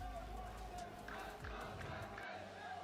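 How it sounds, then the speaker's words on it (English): An esports crowd at an Overwatch playoff match cheers and screams in a distant, continuous roar with rising chant-like swells, heard faintly behind the broadcast. "Can you hear the crowd?"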